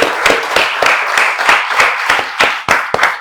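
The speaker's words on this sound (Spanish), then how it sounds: "Un fuerte aplauso para los que hicieron estas hermosas joyas" Audience clapping for the makers of Catrina figures from a workshop, at a community gathering in Compostela, Nayarit: a steady round of many hands, fairly close and even, with sharper individual claps standing out.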